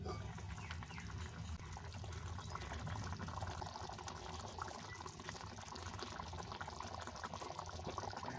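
Water poured into a wok of peas with salt and brought to a simmer makes a soft continuous bubbling, hissing wash, faint and steady for several seconds with no speech.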